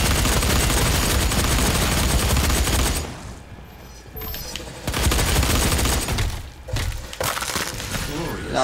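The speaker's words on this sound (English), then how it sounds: "Shotgun, double shotgun." Double-barrel shotgun blasts in the Doom game's Warpath multiplayer beta on PS4, heavy booming reports over dense, loud combat noise, with a brief lull before the chaotic firefight resumes.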